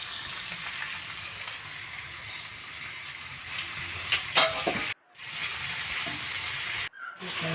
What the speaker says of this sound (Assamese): এইখিনি মোৰ মাংসখিনি অকণমান ভাজি হৈ গৈছে।